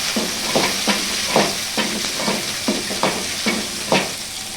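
Small onions with garlic, cumin, urad dal and dried red chillies sauté in a pan for a nightshade-greens chutney, a constant sizzle under a regular rhythm of spatula scrapes, roughly two per second.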